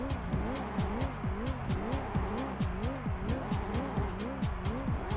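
A Toyota Corolla rally car in Gran Turismo 3 A-spec, its engine note rising and falling in quick repeated swells, as if revving hard through gears, with a gritty rhythmic texture from the tires and track.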